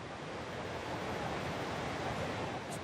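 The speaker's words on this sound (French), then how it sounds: "Cette cascade est d'une puissance." A powerful Icelandic waterfall roars in a steady, dense, loud wash of rushing water that continues unbroken, with no voices.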